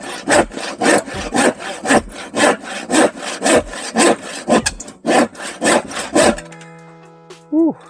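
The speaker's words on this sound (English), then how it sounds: "continuously sawing wood to vent my frustrations" A handsaw rasps steadily through wood in even back-and-forth strokes, close and loud, stopping near the end.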